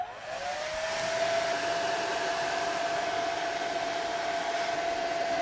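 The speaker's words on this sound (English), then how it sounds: "we're going to heat up the polythene bag with a hairdryer" Hairdryer blows steadily at close range as it heats a polythene bag, a loud continuous whooshing roar with a faint whine that starts up and holds for several seconds, no voices.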